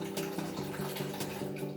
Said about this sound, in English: first you have to fill water into like a random bowl